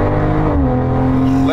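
BMW M340i engine revving hard as it downshifts, a loud close rising-and-falling engine tone heard from inside the car, with voices talking over it.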